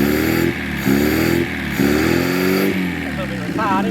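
An old 1600 engine starting and running after 30 years, idling roughly and unevenly with a rising and falling throb, loud and close, with people talking over it.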